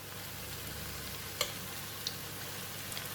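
A tomato mixture cooks in a pan with a steady, soft sizzle and frying hiss, punctuated by a couple of faint clicks, quiet and continuous.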